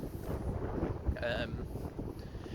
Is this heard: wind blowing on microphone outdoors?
yes